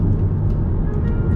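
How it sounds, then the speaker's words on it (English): Steady low engine drone from inside an Audi TTS under acceleration, a smooth continuous hum with road rumble and no voices. "When you get the acceleration going, you can just hear her purring."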